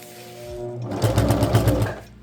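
A sewing machine stitching fabric for a blind in a car camper build starts up and runs in a quick, even rapid-fire clatter of stitches for about a second, close and loud, then winds down.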